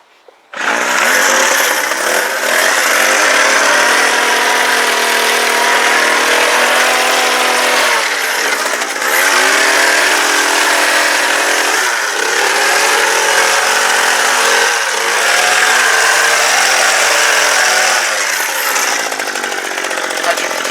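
A red petrol hedge trimmer engine runs steadily and loudly close by for about twenty seconds, idling with slight dips and surges in its buzzing drone before it is switched off.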